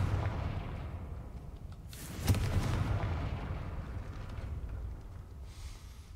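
A Confringo fire spell explodes in a Harry Potter video game, a single loud burst around the middle over a dense low rumble of game ambience, with no talk.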